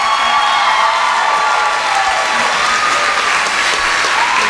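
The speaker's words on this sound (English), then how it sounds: "Give them a round of applause." Loud, sustained applause from a large pageant crowd, dense clapping throughout with a few faint cheers mixed in.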